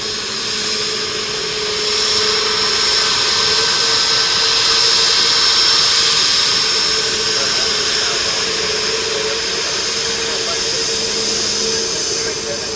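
An airliner jet landing at Dublin Airport in rain, a loud steady engine roar with a high whine and broad rushing spray noise, holding at close range without easing off.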